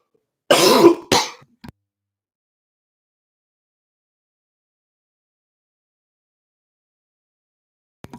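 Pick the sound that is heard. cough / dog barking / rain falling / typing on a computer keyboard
cough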